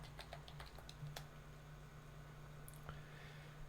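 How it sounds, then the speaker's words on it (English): Faint keyboard keystrokes enter a username and password on a computer, scattered clicks in the first second or so, then quieter taps over a steady low electrical hum. "I'll go ahead and type in my username, and then type in my password"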